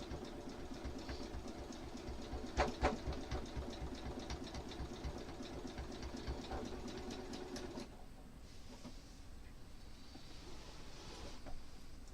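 Sewing machine stitching a quilt block, a steady rapid mechanical whir with fast needle clatter running for about eight seconds, then stopping and leaving a quiet room.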